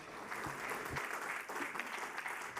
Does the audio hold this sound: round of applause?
yes